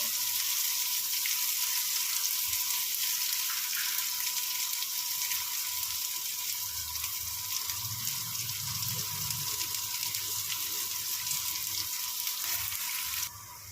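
Chopped onion frying in a pan, a steady loud hiss and crackle of hot oil that runs unbroken and close, then drops away abruptly at the end.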